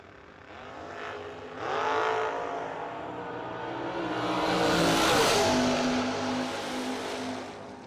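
A race car at the Million Dollar Race accelerates hard past a close listener, its engine note climbing and swelling to a loud peak before holding a steady high whine as it moves off.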